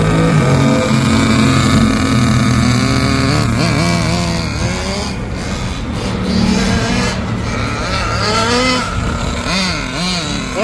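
Vintage Nikko GP 15 rear-drive RC car with its motor left running to warm up: a steady, loud mechanical drone throughout, with wavering pitch sweeps as it revs and people talking over it.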